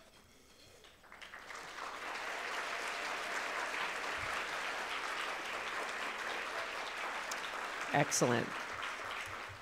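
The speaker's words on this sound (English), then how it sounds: "can you please stand up so we can give you a round of applause?" Audience applause at a business lunch swells after about a second and holds as a steady, dense wash of clapping, with a brief spoken word heard over it near the end.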